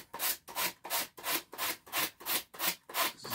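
Wood being sanded by hand in a workshop, a close, steady back-and-forth rasp in about ten even strokes, each a rising and falling swish with brief pauses between, heard alone with no talking.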